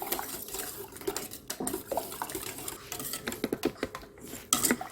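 A milk dessert mixture with strawberry juice stirred thoroughly in a bowl, close clinks of a utensil against the dish and soft sloshing of liquid, irregular and fairly quiet.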